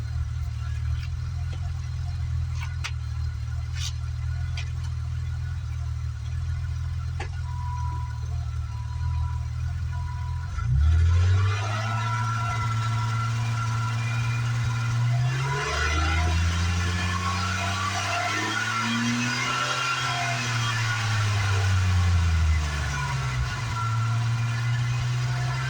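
A BMW E24/E28 with a Supersprint cat-back exhaust idles low and steady on a cold start, then is revved several times, the exhaust note rising and falling in sweeping pulls before settling back, loud and close.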